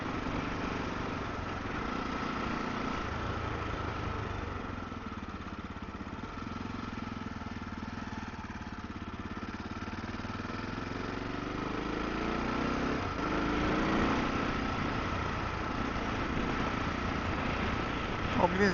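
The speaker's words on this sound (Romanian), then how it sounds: "avem un monocilindru care dezvoltă o putere de 55 de cai putere" An SWM Superdual T motorcycle's 55-horsepower single-cylinder engine runs steadily on a test ride, a continuous buzzing drone that rises slightly toward the end, with someone talking over it throughout.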